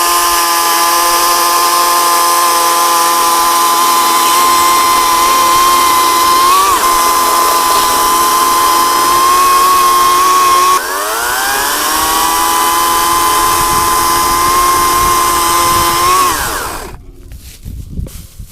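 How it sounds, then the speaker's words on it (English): An ENHULK 58V Pro Series brushless electric chainsaw with a 16-inch blade whines loudly and steadily as it cuts through logs, its pitch dipping briefly under load before the motor winds down at the end. "That is the ENHULK Pro Series electric chainsaw, 16-inch blade, brushless motor, and it works great."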